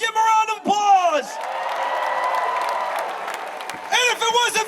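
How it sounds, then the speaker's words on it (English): Crowd at a Baylor men's basketball parade, cheering and applauding as a steady roar of clapping, with loud amplified speech before and after. "Give him a round of applause"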